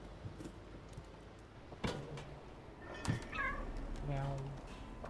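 Several distinct meows from a cat in the video game Stray, moderately close over a low game soundscape with faint thuds, the calls rising and falling in pitch.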